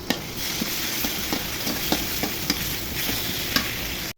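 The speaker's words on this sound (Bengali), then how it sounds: "এখন আদা রসুন দিয়ে ভেজে নিব" Ginger and garlic fry in hot oil after chopped onion and onion greens, a continuous sizzle broken by regular scraping strokes of a spoon stirring the pan, close and steady with no voices.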